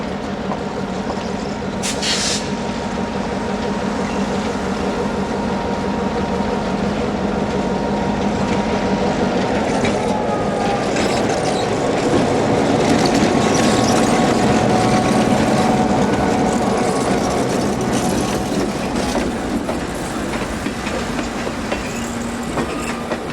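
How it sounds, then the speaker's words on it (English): Locomotive 5623 pulling a passenger train westbound out of Brightside Yard, a loud, close, continuous engine rumble with rhythmic clickety-clack of wheels over rail joints and occasional wheel squeal. "5623 pulls the completed passenger consist westbound out of Brightside Yard"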